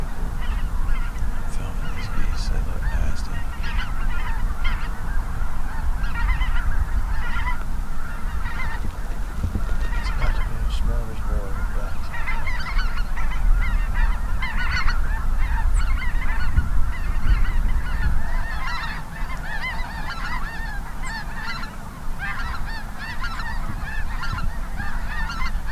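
A large flock of snow geese just airborne, filling the air with steady, overlapping honks and cackles that stay loud and dense throughout, with no voices.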